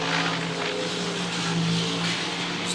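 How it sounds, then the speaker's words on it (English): A supercharged alcohol-fuelled racing boat engine roars in a constant, even drone with a rough broadband wash during Gold Cup practice, heard from some distance. "still finding his way around this blown alcohol boat"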